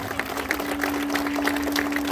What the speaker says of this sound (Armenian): եկեք մի հատ բոլորը ծափարենք մեր հերոսներին, ու թող այդ ձայնը երկինք հասնի